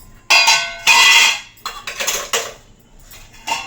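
Steel kitchen containers, bowls and wooden spoons are put away, giving several loud metallic clanks and clinks in separate bursts with short pauses between them. No one speaks.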